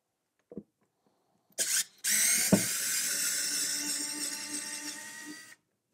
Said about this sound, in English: I think I can just come in here and unscrew these to get this control panel off